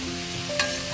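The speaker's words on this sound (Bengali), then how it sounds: "ভালো করে আমরা ভাজবো" Bottle gourd peel frying in a pan, a steady soft sizzle with a brief stir of the pieces midway, close and fairly quiet.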